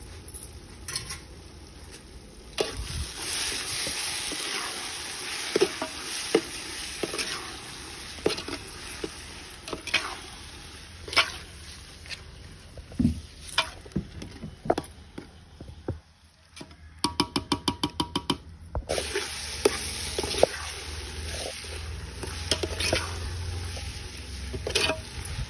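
Crushed ginger and garlic frying with onion in a pan on a wood-fired village chulha, with steady soft sizzling under repeated spatula scrapes and clinks against the pan, and a brief rapid rattling run partway through.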